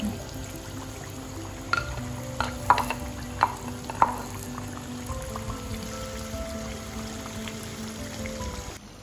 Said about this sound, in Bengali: সব কিছু আমি খুব ভালো করে কষিয়ে নিয়েছি